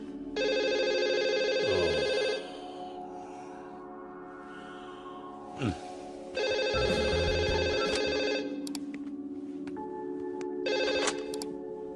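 A telephone rings in a Hindi comedy film scene, with two long, loud bursts of electronic ringing separated by a pause.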